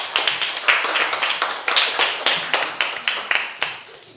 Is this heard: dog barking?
no